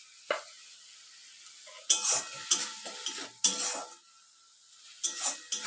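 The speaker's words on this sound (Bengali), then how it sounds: "এটা নাড়িয়ে নিচ্ছি ভালো করে।" Masala with turmeric being stirred in a frying pan for an egg curry: a handful of distinct scraping, clinking spatula strokes separated by short pauses, close and fairly quiet, with no talking.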